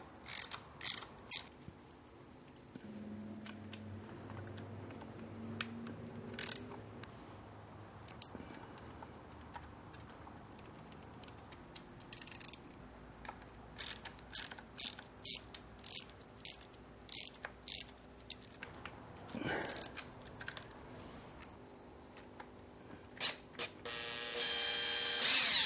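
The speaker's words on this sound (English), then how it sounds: "So now we're going to go around and undo all of these bolts for the PCV valve." Ratchet clicking as T30 bolts on the PCV valve of an Audi A4 B8 engine are undone, repeated bursts of close rapid pawl clicks with pauses and clanks between.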